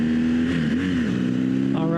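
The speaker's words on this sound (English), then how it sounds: "Go ahead and punch it a little bit more, a little full throttle." A BMW R1200GS motorcycle on Michelin Anakee Adventure tires pulls hard at full throttle on a country road, its engine note droning and climbing loudly and steadily with rushing wind, close to the rider.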